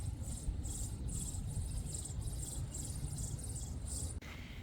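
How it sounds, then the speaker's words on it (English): Sparrow nestlings in a garden nest chirping in a rapid, high-pitched pulsing series, loud and steady, cutting off abruptly near the end. "That chirping, that is that little sparrow nest."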